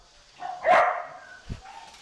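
Golden retriever puppies from a litter give a short yip-like bark, then a fainter second bark, close to the microphone in a quiet room.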